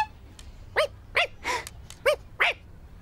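A cartoon dog gives a series of short, sharp yelping barks with whiny edges, about six spaced bursts over a quiet background with no talk.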